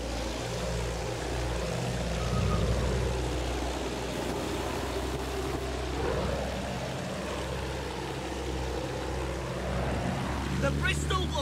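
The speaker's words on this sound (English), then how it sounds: "The Bristol will handle like the other planes. Less throttle, meaning to make tighter turns." A Bristol fighter plane's propeller engine drones continuously in Battlefield 1 multiplayer gameplay, a low throbbing hum that rises and dips with throttle changes, overlaid with game noise and a burst of sharper sounds near the end.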